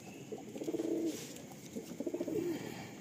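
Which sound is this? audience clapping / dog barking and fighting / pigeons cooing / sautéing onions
pigeons cooing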